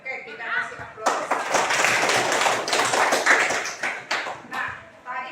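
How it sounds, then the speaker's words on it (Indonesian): A classroom of students claps together in a dense burst of applause lasting a few seconds, fairly close and lively, before it thins out into a few last claps. "Oke, kita kasih aplaus."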